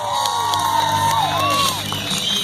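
Fair crowd cheering and whooping for a BMX rider at the Gwinnett County Fair, a loud, sustained mass of voices with rising shouts and children's cries throughout.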